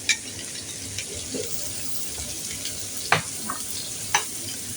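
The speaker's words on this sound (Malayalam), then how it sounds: "ഉള്ളിത്തണ്ട് അതും കൂടി ഇട്ട് നമുക്ക് ഇളക്കി എടുക്കാം" Cabbage, capsicum and spring onion being stir-fried for chicken fried rice, a soft continuous sizzle broken by a few sharp spoon clinks and scrapes against the pan, with no voices.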